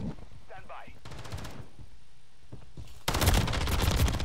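Gunfire in Call of Duty MW3 ranked multiplayer, with SMG bursts and shots cutting in, then a loud sustained volley near the end, over faint background game sound.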